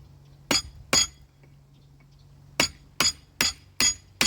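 Sharp metallic strikes ring out in a forge as thick steel stock is cut. Two hits come close together, then after a pause a run of five evenly spaced, ringing blows, loud and close.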